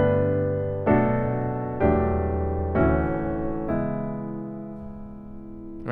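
A solo piano plays reharmonized jazz chords of a worship song, four sustained chords struck about a second apart and left ringing to decay, clear and close with no talking.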